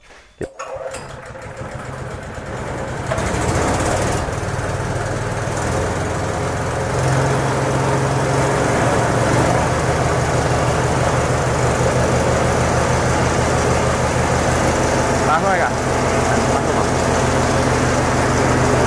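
A MAKTANI MT rice mill driven by a Kubota engine starts up and runs in a loud, steady, continuous mechanical drone with a rapid rhythmic rattle lasting throughout.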